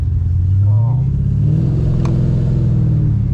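A cammed Pontiac GTO with a Borla exhaust and cut-outs rumbles and revs with a deep, throaty exhaust note, close by, as someone talks over it.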